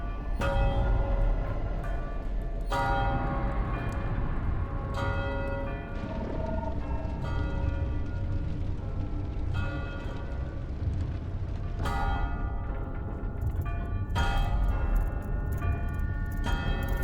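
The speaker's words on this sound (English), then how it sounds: "It's a bell." A bell tolling in the video game Death Stranding, with loud resonant strikes every few seconds whose ringing tones sustain and overlap over a deep, constant rumbling drone.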